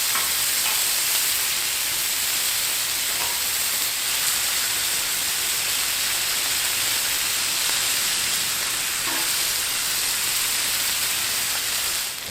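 Chicken wings sizzling on a Blackstone griddle, a steady loud hiss of hot oil throughout with a few faint scraping clicks as the wings are flipped, and no talking.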